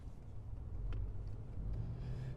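Steady low road rumble and engine drone heard from inside a moving car, continuous and fairly quiet, with no voices.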